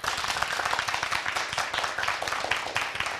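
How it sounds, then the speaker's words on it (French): Studio audience applause on a Burkinabè TV variety show: dense, steady clapping from many hands that runs throughout without speech. "Applaudissements pour vous."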